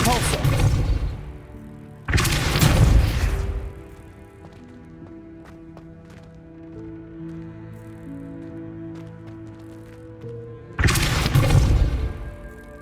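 Depulso force spell impacts in the video game Hogwarts Legacy: three loud, broad whooshing bursts, two close together at the start and one near the end, over a quieter steady tonal game background.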